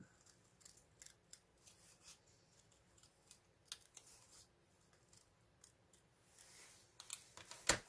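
Scissors snip through a comic book page for a handmade card, a run of small crisp cuts in an uneven rhythm, quiet and close, ending in one sharper snap with no speech.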